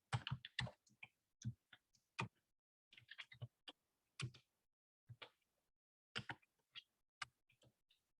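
Code being typed on a computer keyboard for a beginner hello-world programming lab: quiet, close key clicks in irregular bursts with short pauses, heard alone.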